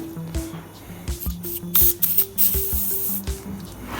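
Cleaning fluid sprayed onto a cluttered car parts bench in a race-car workshop, with a quick series of close, sharp spray bursts and short pump squeaks between them.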